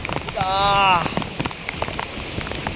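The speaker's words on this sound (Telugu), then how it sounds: "వర్షం అయితే ఘోరంగా పడుతుంది" Heavy rain falling near the sea, dense close patter on surfaces with sharp drop hits, briefly joined by a voice talking early on.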